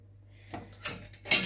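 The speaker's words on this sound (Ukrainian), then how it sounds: "закриваємо кришкою та смажимо до готовності" A metal lid clatters onto a frying pan cooking a pumpkin omelette over low heat, with a couple of light clanks, close by, over a low steady hum.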